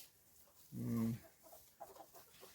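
Dark-feathered hens on a farm, a single clear cluck or short squawk near the middle, followed by softer scattered clucking and low farmyard movement at a quiet level.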